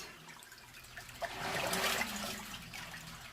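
Water rushes and trickles through a washing machine during its second rinse cycle, a soft, steady wash of liquid that swells briefly midway and then settles again, with no voices.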